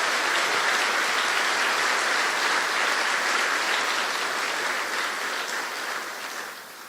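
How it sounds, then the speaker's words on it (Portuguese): Sustained applause from a church congregation during a Sunday service, a dense steady clapping that fills the space and slowly tapers off toward the end, with no voices over it. "Pode aplaudi-lo mesmo para valer."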